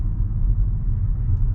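A 2023 Kia Soul GT-Line driving on a road, heard as a steady low rumble of engine and road noise from inside the car, with no voices.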